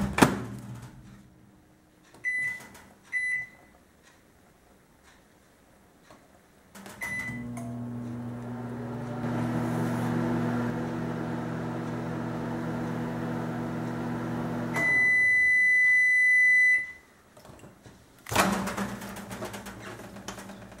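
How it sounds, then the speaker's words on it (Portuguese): A microwave oven hums steadily for about eight seconds after a few short clicks and beeps, its drone ending with a run of beeps and a door click, all in a quiet kitchen. "leva ao micro-ondas por 15 segundos"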